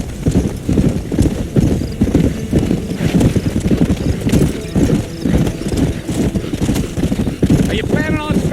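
Horse hooves galloping in the Red Dead Redemption video game, a continuous rapid clip-clop rhythm of hoofbeats, loud and close, with a brief whinny near the end.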